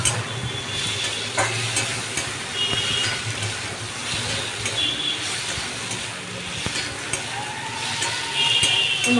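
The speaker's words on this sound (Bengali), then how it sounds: "মশলাটা কষানো হয়ে গেছে" Spice paste for a sweetish chhana kofta curry fries in a pan with a steady, dense sizzle. Occasional stirring scrapes and clinks cut through it, close up and with no talking.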